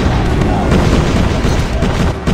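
A heavy airstrike explosion in a Call of Duty match, a loud, continuous rumbling boom with dense low-end roar that fills the whole stretch, close and overwhelming.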